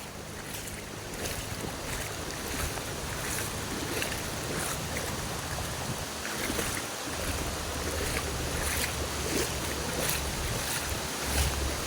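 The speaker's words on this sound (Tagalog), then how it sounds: "Napakalakas din ang agos ng tubig." Strong current of rushing floodwater beside a bridge that seems close to breaking, a constant broadband roar with wind-like hiss and low rumble, steady and unbroken throughout.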